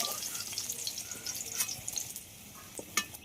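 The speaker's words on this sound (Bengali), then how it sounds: "আর উচ্ছে আর আলুটাকে আর একটু ভেজে নেব।" Bitter gourd and potato pieces frying in oil, a quiet crackling sizzle with scattered pops and a few louder spatters, close by and continuous with no voices.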